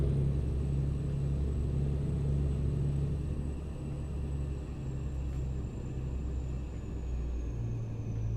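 A truck engine in a video game drones in a steady, loud low rumble with a faint clacking texture, resembling a Philippine jeepney, running continuously without speech.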